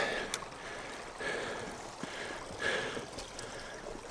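Water from a spring pours out steadily nearby, a broad continuous rush with slight swells in volume and no voices over it.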